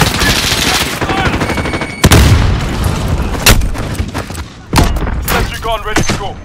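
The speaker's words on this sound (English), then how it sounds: "Cruise missile." Cruise missile strike in Modern Warfare multiplayer: dense booming blasts and rapid gunfire build into several loud explosive bursts over a steady din of battle.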